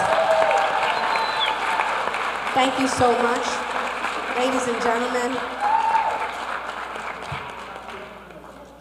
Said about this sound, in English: Now let's give our great staff a big round of applause.